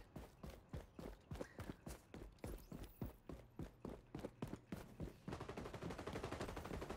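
A light machine gun fires in a shooter game as a steady run of evenly spaced shots, then turns into a faster continuous rattle near the end, with no voices.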